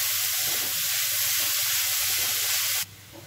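Grated beetroot sautéing with onions in a pan over low heat, giving a steady close sizzle and hiss that cuts off abruptly near the end.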